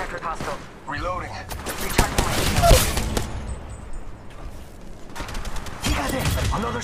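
Gunfire in an Apex Legends-style firefight: dense bursts of rapid shots in clustered volleys, loud and close, with gaps between them and game voice lines over the top.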